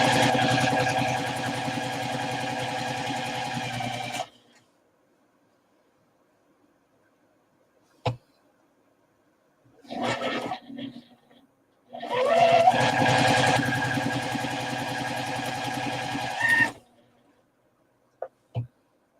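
A sewing machine stitches a Cricut-cut cookie jar design in several runs of fast, steady mechanical whirring separated by silences, with a few small clicks in between.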